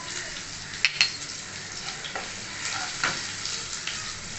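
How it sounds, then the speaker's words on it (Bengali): Onion and cumin frying in hot oil, a soft continuous sizzle with a few sharp utensil clicks and scrapes against the pan, heard close with no talking over it. "এবারে দিয়ে দিলাম পেঁয়াজ। পেঁয়াজ আর জিরেটা একটু লাল লাল করে নেব।"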